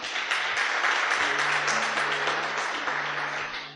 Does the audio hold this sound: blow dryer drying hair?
no